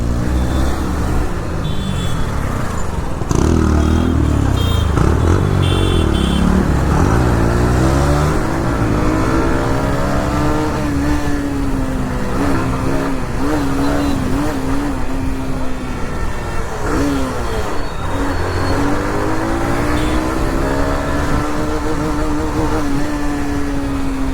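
A KTM Duke motorcycle engine revs and drones steadily and loudly throughout, its pitch rising and falling with throttle, heard up close amid traffic noise on a road ride.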